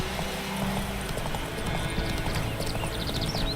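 Roach the horse trots in a video game with steady, close hoof clip-clops over a constant outdoor background.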